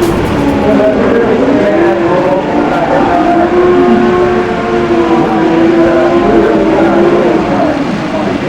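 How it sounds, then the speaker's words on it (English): Two Funny Bike drag racing motorcycles doing side-by-side burnouts at a 2002 AMA Prostar drag bike final, a loud sustained engine roar with wavering revving tones throughout, no pauses. "Nice side-by-side burnouts."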